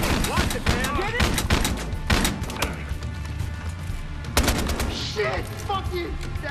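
Rapid bursts of gunfire in Battlefield Hardline, loud close shots in quick clusters, some automatic, with brief pauses between and faint voices and game sounds underneath.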